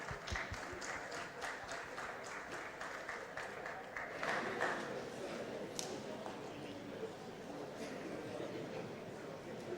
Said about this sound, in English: Come clap for them, please.